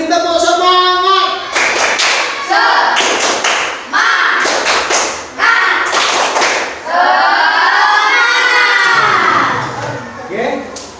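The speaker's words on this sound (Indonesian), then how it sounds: "untuk kelompok 2 tadi kita beri tepuk semangat" A school class of children claps a rhythmic spirit cheer in bursts of quick patterned claps, broken by short pauses, with young voices chanting and speaking between the clapping rounds.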